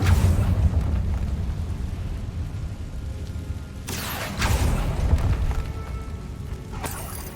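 A Confringo spell explosion in the Hogwarts Legacy video game, with loud booming bursts over a rumbling game soundscape: one heavy blast midway, then another short burst near the end.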